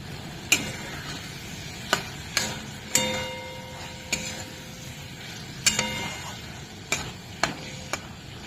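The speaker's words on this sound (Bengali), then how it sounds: "এবার আমি গাজরটা দিয়ে দেব, দিয়ে কিছুক্ষণ কষে নেব।" Carrots stirred into a thick spice paste in a pan, a spoon scraping and knocking against the metal in sharp separate strokes about once a second, over a faint low sizzle.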